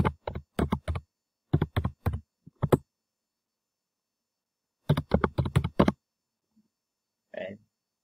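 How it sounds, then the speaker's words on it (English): Fingers typing a file name on a computer keyboard: a few short clusters of crisp, close key clicks separated by silent pauses, followed by a faint brief voice near the end. "type the file name."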